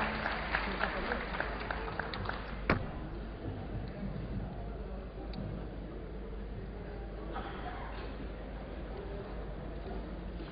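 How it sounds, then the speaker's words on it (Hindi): An audience at a kavi sammelan poetry gathering at Lucknow Mahotsav applauds, a faint, continuous crackle of many hands clapping that carries on steadily with a few sharper claps, heard from a distance over background voices. "आग्रह से आपके बीच में जोरदार तालियों से स्वागत कीजिएगा"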